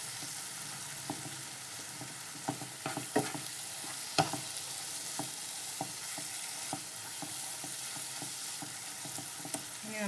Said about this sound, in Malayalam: ഇത് നന്നായിട്ട് മിക്സ് ആയിട്ടുണ്ട്.